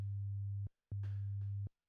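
A pure 100 Hz sine tone from a synthesizer sounds in two steady, identical bursts of about three-quarters of a second each, separated by a short silence, with no voices.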